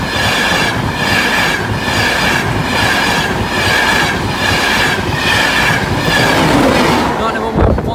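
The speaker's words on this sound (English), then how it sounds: "It's the only train, the DVT set." A train with a DVT set rolls past Barnby level crossing, loud and close, with rhythmic clickety-clack from the wheels over the rail joints and a level crossing alarm sounding, before quieting at the end.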